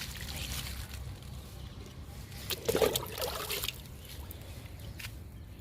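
Liquid fertilizer trickles and splashes onto soil in potted garden plants, a soft steady pour with a brief louder gush partway through, close by and with no talk.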